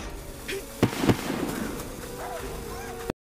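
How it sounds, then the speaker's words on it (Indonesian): Firecrackers hurled at a wolf in an isekai anime burst as a few sharp pops and crackles, two loud bangs near the start followed by smaller scattered snaps over a steady background hiss. "dia membeli petasan gitu. Kenichi lempar-lempar ke serigala tersebut"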